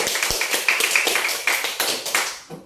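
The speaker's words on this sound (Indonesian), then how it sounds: "Tepuk tangan untuk temannya." Schoolchildren in a classroom clap together for a classmate, a quick run of sharp, fairly rhythmic claps that loosens and fades out near the end.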